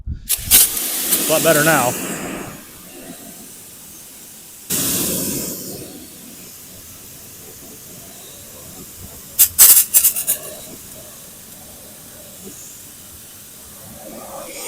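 Pressurized water spray rinses dirty car wheels in hissing bursts, one long at the start, another mid-way and sharp spurts near the end, with a person talking between sprays.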